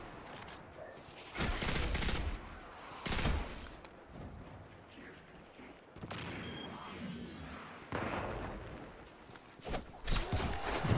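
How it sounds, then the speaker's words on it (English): Repeated heavy blasts from dynamite explosions in the video game Destiny, several loud bursts spread across the stretch with rumbling decay between them and no speech. "Boom goes the dynamite."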